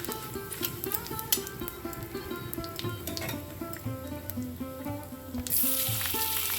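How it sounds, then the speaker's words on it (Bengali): Spice tempering frying in a pan for a new potato curry, with a soft continuous sizzle and faint stirring close by, getting a little louder at the end. "এবার ভালো করে আমাদের ফোড়নটাকে ভেজে নিতে হবে যতক্ষণ না পর্যন্ত এর মধ্যে থেকে একটা সুন্দর গন্ধ আসে।"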